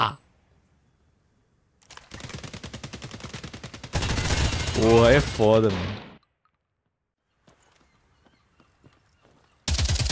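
Rapid bursts of video game gunfire in a free tactical first-person shooter crackle in quick succession, loud and dense, while someone speaks excitedly over part of it, then another sudden burst cuts in.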